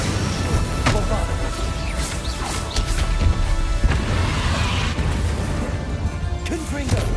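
Bombarda explosion spell cast during combat in Hogwarts Legacy, with several dull booms and crashes scattered through dense battle noise, set against a steady busy game-action background.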